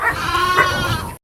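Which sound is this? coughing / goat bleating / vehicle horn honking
goat bleating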